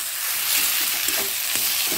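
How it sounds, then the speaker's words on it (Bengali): Boiled bhetki fish being stirred in a frying pan, with a steady broadband sizzle and soft scraping of the spatula continuing throughout, fairly close and moderately loud, with no talking. "এবার সেদ্ধ করা ভেটকি মাছটা দিয়ে দিচ্ছি। আবারও নেড়ে নিচ্ছি।"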